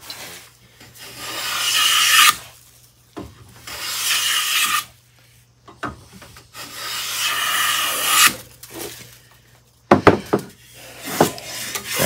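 Stanley No 144 corner rounding plane cutting a wooden edge, its iron set too far out: a series of rasping, scraping strokes, each a second or two long with short pauses between, fairly close and with no talk.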